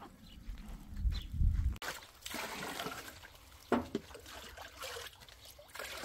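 Water is poured and trickles for cows on a farm, an uneven splashing and dribbling at close range with small knocks and shifting noises.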